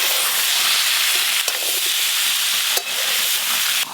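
Oil sizzling in a pan during cooking of jackfruit seed curry with chopped onion, a loud constant hiss with a few brief clinks and scrapes.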